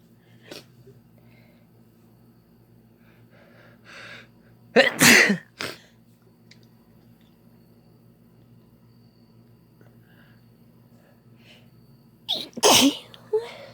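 A woman sneezes loudly several times in separate bursts, with a close double sneeze in the middle and another pair near the end, over a quiet background with a low steady hum.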